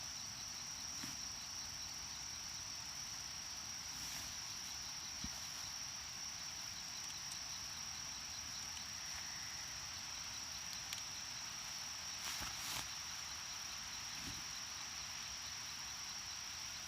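Insects chirp in the evening around a campsite near Hot Springs, Arkansas, a continuous high-pitched cricket-like drone with occasional faint clicks and rustles, steady and moderately distant.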